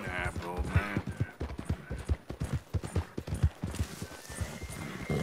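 Horse hooves clip-clop in a steady, fairly close rhythm through Red Dead Redemption 2 gameplay, with a brief whinny and a voice talking over the hoofbeats.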